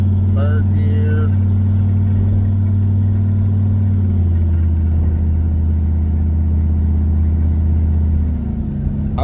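A turbocharged Chevrolet Caprice accelerates hard through second and third gear, its loud, steady engine drone holding a low pitch before it drops at the gear change and builds again, with brief speech over the start.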